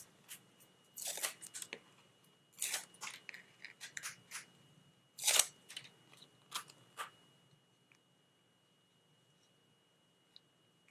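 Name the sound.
peeling backing off card-making paper piece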